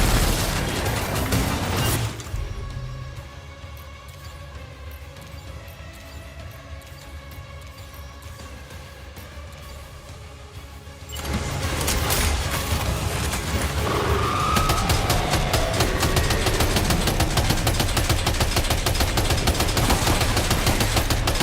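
Gunfire in Death Stranding 2, a burst of dense shots at the start and then a long, loud barrage of rapid fire from about eleven seconds onward, with a quieter, humming stretch between the two.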